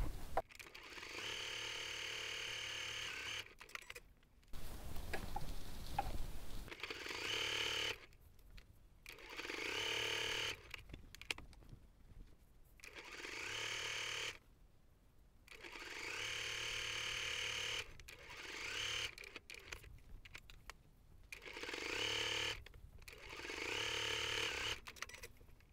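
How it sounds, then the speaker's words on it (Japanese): A sewing machine stitches a divider into the middle of a fabric bag lining, running in steady mechanical bursts of several seconds separated by short pauses and handling noises, fairly quiet and close with no voices. "真ん中で仕切りを縫っておきます。"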